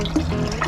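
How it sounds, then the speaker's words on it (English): Water pouring over a stainless steel pond waterfall blade with LED lights, fed by a powerful pump; a steady, close rushing splash with a constant wet hiss. "Plenty of water flow going into that."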